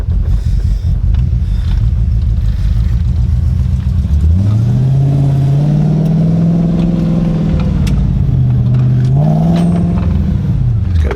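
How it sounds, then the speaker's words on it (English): A close, loud Audi S4 engine rumbles and then revs up as the car pulls away up the road, the pitch rising and falling through gear changes, with no talking. "I think we should give it a little rip up the road."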